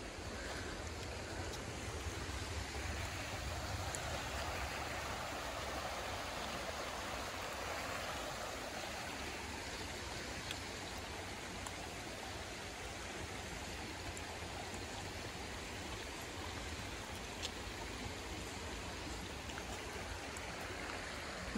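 Waterfall and rushing mountain stream at Cataract Falls in the Great Smoky Mountains, a steady faint broadband wash of falling water heard from a short distance, unbroken throughout.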